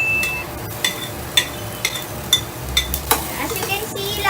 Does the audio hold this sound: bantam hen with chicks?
no